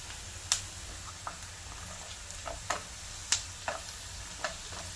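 Vegetables for chicken chop suey, carrots first, go into a hot pan, giving a steady low sizzle broken by sharp clicks and taps of a spatula stirring against the pan, close and without talk.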